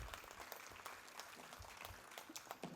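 Clapping from an audience at an annual general body meeting, a scattered patter of hands with uneven, sharp claps, fairly quiet and continuous for a few seconds.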